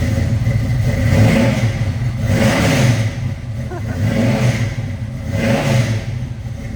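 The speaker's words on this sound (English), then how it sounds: "Let's give it a couple revs." A restored 1969 Ford Fairlane 500 hardtop with a 408 stroker engine, C4 automatic and Holley Sniper, revs from idle in a couple of loud, close rising and falling surges, engine rumble filling the space without talk.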